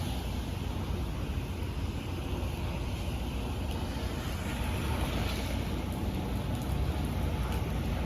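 Steady rain falls outside near a Roman Catholic church, a constant soft hiss of drops that stays even throughout with no talking.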